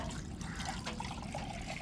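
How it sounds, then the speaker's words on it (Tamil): Fish rubbed with salt and then rinsed and washed by hand in water, giving a steady close splashing and trickling wash that runs through the whole short stretch. "இப்போ அலசி எடுத்துட்டு நம்ம நல்லா கழுவி எடுத்துட்டு"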